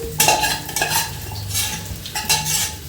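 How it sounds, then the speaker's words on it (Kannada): Potatoes go into a frying pan of oil, a loud burst of sizzling followed by clattering and scraping as they are stirred, in short surges of noise. "ನೋಡಿ ಈಗ ನಮ್ಮ ಆಲೂಗಡ್ಡೆ ಹಾಕ್ತಿದ್ದೀವಿ"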